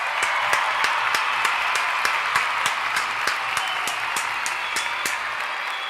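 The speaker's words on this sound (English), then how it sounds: "Round of applause for Bruce Pritchard" A crowd claps steadily for wrestling figure Bruce Pritchard, a dense, even patter of applause that holds at the same level throughout with no voices on top.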